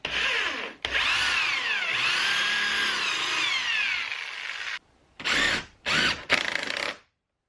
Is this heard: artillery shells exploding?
no